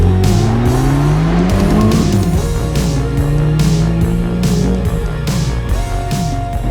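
Ford Escort RS1600i fitted with a turbocharged RS engine driving on open roads, a loud steady engine drone with rising and falling revs and periodic gear-change breaks, heard from inside the car.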